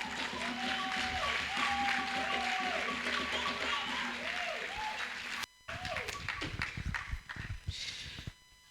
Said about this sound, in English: And you have a round of applause again.